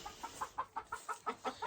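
Bantam chickens and a rooster cluck in a steady run of short, evenly spaced calls, soft and fairly close, with no talking.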